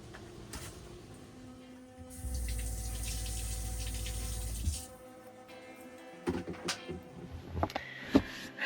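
A bathroom tap in an off-grid home runs steadily for a couple of seconds during evening tooth brushing, then stops, leaving soft clinks and handling noises nearby.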